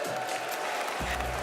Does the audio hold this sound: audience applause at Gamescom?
yes